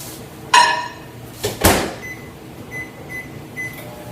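A microwave oven set to melt butter: a door thud and a clunk, then a run of short, evenly spaced electronic keypad beeps, fairly close in a quiet kitchen.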